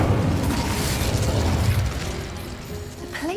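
A fire spell cast in Hogwarts Legacy, a loud whooshing burst with crackling, rumbling flames that fades, followed by a faint rising magical tone.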